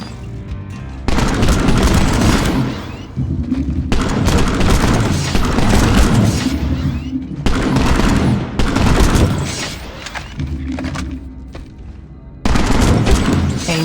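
Weapons fire in the PlanetSide 2 video game in loud, dense bursts of rapid automatic gunfire and booms, with a few short pauses between volleys.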